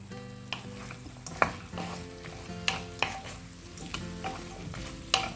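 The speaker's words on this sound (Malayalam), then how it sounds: "ഇത്തിരി നേരം ഇതിലിട്ടിട്ട് ഒന്ന് ഇളക്കിയതിന് ശേഷം ചിക്കൻ ഫ്രൈ ചെയ്ത് വെച്ചത് നമുക്കിതിലേക്ക് ചേർത്ത് കൊടുക്കാം." Fried chicken gets stirred into a butter garlic sauce in a pan: a constant close sizzle, with several sharp scraping strokes and clinks of the spoon against the pan, and no talking.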